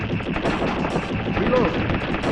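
Rapid gunfire from the SNES light-gun game Lethal Enforcers, dense repeated shots in quick succession throughout, with someone speaking over them.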